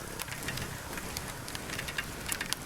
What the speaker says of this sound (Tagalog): Naku, ulan.